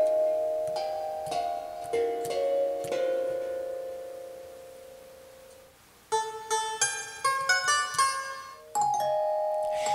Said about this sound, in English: being a MIDI controller, you can use whatever sound you like, including a tongue drum